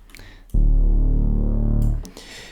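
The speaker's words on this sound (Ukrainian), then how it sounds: "додається бас, який у соло звучить ось так." A deep, sustained bass note played alone, loud and buzzy with rich harmonics, holding for about a second and a half before cutting off.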